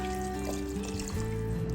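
Water poured into a cooking pot over pieces of fish for a fish soup, a continuous close splashing and gurgling stream with a rising pitch as the pot fills, no voices.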